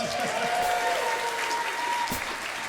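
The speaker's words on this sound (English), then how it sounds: "Give Adam a big round of applause." A crowd applauds steadily, a dense wash of clapping that holds at an even level from start to finish.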